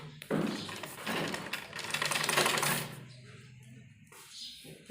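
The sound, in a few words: sewing machine stitching the folded edge of a baby frock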